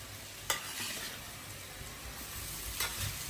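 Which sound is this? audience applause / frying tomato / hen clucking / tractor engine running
frying tomato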